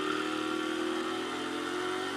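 Pit bike engine riding down a neighborhood road, a steady close mid-pitched buzz held at constant revs for a couple of seconds, with no voices.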